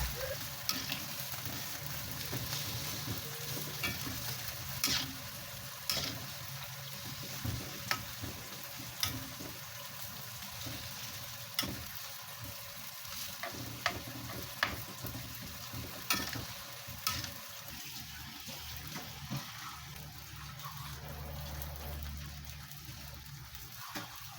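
Eggplant cooking in a pan with water added for sambal hijau, a steady sizzle and frying hiss with occasional stirring clicks throughout, no voices.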